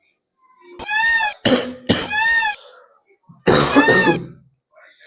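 A man coughs and clears his throat in harsh bursts, two quick coughs, a rasping hack, then a louder fit after a short pause, close and alone without talk.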